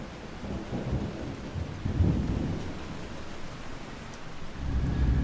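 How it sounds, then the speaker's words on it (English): Heavy rain pours down in Estonia while thunder rumbles low and long through a storm, the downpour holding steady and swelling again near the end. "We waited for quite a long time for the rain to stop, but it didn't."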